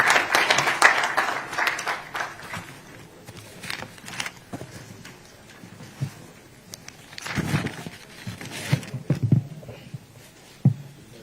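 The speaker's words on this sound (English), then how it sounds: "Let's kindly offer another round of applause for amiable Chairman of the Senate Committee on Interior" Audience applause at a regional maritime workshop in Lagos, hosted by the Minister of Interior: bursts of clapping swell and fade across the room, with a strong wave near the start and another later, plus some shuffling footsteps.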